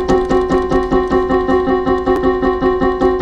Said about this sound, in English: I think it was called like the devil's interval.